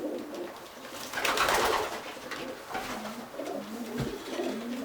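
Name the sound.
pigeons cooing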